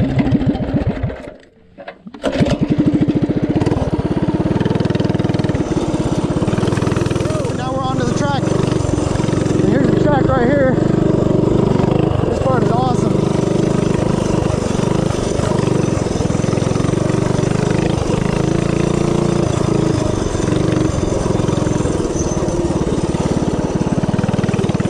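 A Coleman CC100X mini bike engine ridden off-road with touchy throttle and a bald rear tire, droning steadily and loudly up close with small throttle swells, after a brief dip near the start.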